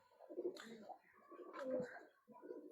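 Pigeons in a backyard loft cooing in a few soft, throaty bursts, close by and moderately loud, on a rainy day with no talking.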